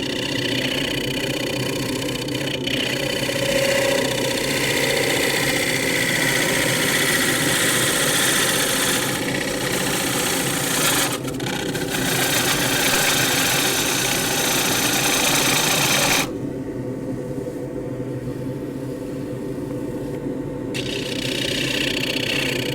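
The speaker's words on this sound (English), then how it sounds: "Coming with a heavier gouge now. This is the 1/2 inch bowl gouge," A half-inch bowl gouge cuts a roughed wooden bowl, about 10¼ by 4 inches, turning on a lathe, giving a steady, loud, grinding hum with a few brief catches and a quieter stretch near the end.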